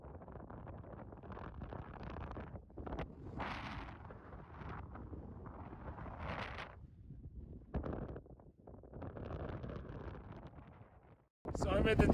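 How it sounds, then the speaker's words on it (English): Gusty wind buffets the microphone in bursts at the top of Anderson Pass near Kings Peak, Utah, rumbling and roaring, with a person talking between gusts and a sharp loud blast near the end. "You can see it's quite windy."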